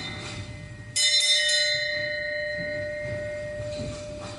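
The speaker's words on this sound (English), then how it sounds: "The bell invites me." A single bell strikes once with a bright clang, then its tone rings on and slowly fades, heard alone over a low rumbling background.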